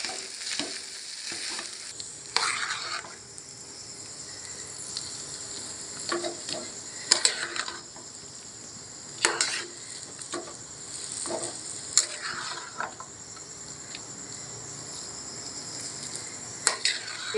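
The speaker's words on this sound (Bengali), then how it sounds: "এবার এটাকে আমি ভালো করে নাড়া দেবো, পুরোটা মিশিয়ে দেবো আলুর সাথে নাড়াচাড়া করে।" A potato mixture frying in a pan is stirred steadily, a low sizzle running throughout with intermittent scraping strokes of the spoon, close and moderately loud, with no talking.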